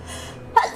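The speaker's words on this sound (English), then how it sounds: "I am sneezing like crazy." A single sharp sneeze bursts out near the microphone after a brief quiet intake, short and loud, during a play session of the game Darkest Dungeon 2.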